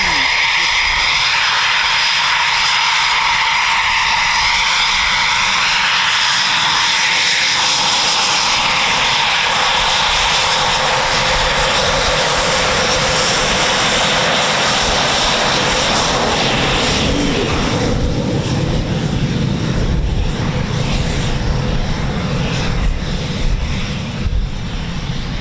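Pair of two-seat Typhoon FGR4 jets over RAF Coningsby, a loud continuous roar with sweeping whine that holds steady across the whole stretch, building slightly toward the end, with no voices.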